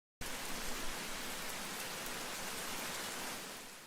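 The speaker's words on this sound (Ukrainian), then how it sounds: "Іде дощ" Steady rain pours down in a dense, even hiss with no voices, easing slightly toward the end.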